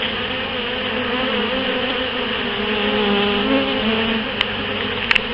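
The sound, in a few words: honeybee swarm buzzing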